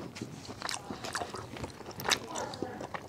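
Rare steak being bitten and chewed up close in a mukbang setting, with wet, squishy chewing and a few small crunches, some talking over it.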